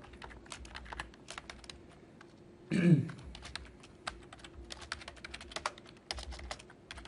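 Typing on a computer keyboard during a lecture, a steady run of quick, light key clicks close by, with a brief louder bump partway through and faint room noise underneath.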